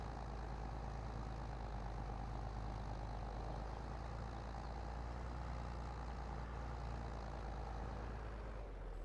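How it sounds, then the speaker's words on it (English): A tractor engine from Farming Simulator 22 idles and runs steadily, a loud continuous low rumble with a dense mechanical drone that holds constant throughout with no talk over it. "the sounds in this, like the sound of this tractor, I like it."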